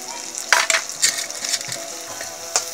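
Turmeric tipped into hot cooking oil sizzles and spits loudly in a village kitchen, with sharp crackling bursts over a steady frying hiss.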